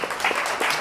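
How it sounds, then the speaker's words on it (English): Audience at an artist talk at the Vermont Studio Center claps briefly, a dense, steady patter of many hands filling the room for under a second. "I'd like to clap for them"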